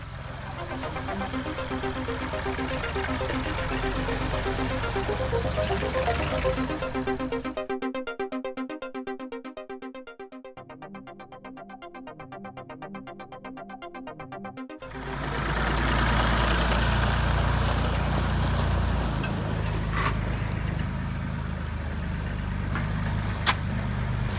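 An old tractor engine idles steadily on a farm, a loud low rumble with rattling mechanical clatter; it fades briefly in the middle, then returns louder and close.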